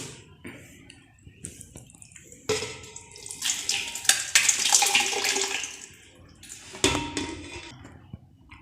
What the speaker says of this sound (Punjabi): ਥੋੜਾ ਜਿਹਾ ਆਪਾਂ ਗਰਮ ਪਾਣੀ ਇਹਦੇ ਵਿੱਚ ਪਾਵਾਂਗੇ